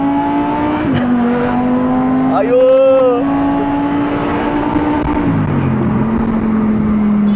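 A Lamborghini engine rumbles steadily with a brief rev rising and falling midway, loud and close, while a man exclaims over it.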